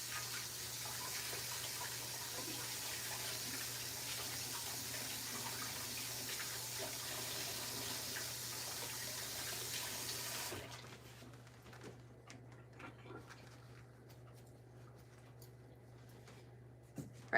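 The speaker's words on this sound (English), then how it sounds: "gonna give my hands a quick wash." A kitchen tap runs steadily while hands are washed under it, a continuous hiss and splash lasting about ten seconds before the water shuts off, leaving faint handling noises.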